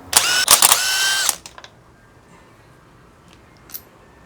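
A ratchet working on the spark plugs of a Honda B20 engine, a brief burst of fast mechanical clicking close up, followed by quiet with a faint tool tap.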